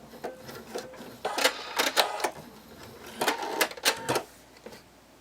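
A sewing machine stitches darts on a bunny plush head in short bursts of rapid mechanical whirring, separated by quiet gaps.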